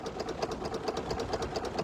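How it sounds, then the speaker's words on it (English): A Dexheimer 222 tractor engine idles slowly with an even, rapid chugging pulse, each beat distinct and close, running steadily with no speech. "That sounds about like a John Deere 2-cylinder sitting there idling, doesn't it?"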